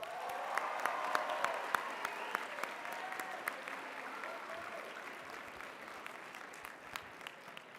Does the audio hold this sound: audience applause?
yes